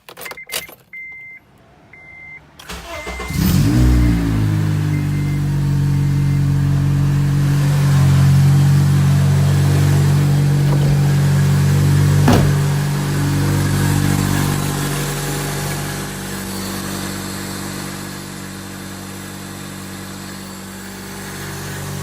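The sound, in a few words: Acura RSX engine started and running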